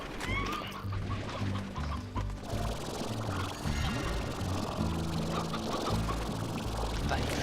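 Hens clucking in the farming game Slime Rancher, a dense, continuous flock chatter of many birds close by over steady game background sound, with no one talking.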